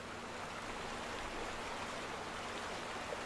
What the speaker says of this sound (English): That water sound is awesome.